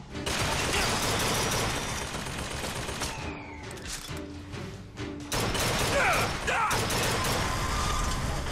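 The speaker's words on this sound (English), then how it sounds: "It shoots in, in bursts, I guess. So, it won't stop shooting until it's out of ammo." Turret in the video game Bioshock Infinite firing in bursts, loud mechanical rattling volleys that break off briefly midway, with whirring and clanking, then resume hard and close.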